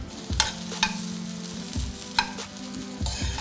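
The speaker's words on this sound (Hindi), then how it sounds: "अब हम इसमें ऐड करेंगे कॉर्न एंड सिमिलरली थोड़ी देर के लिए उन्हें भी पका लेंगे ताकि वो लाल हो जाए।" Carrots and corn sautéed in a pan, stirred with a few sharp spatula scrapes over a steady low sizzle, close up with no talking.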